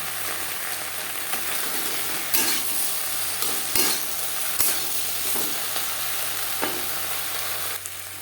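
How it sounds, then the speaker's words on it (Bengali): Sliced okra with ginger paste and green chili paste is stirred in a pan, with a continuous close sizzle broken by several sharp scrapes and knocks of the spoon against the pan. "মশলার কাঁচা গন্ধ যাওয়া পর্যন্ত নাড়াচাড়া করে নেব"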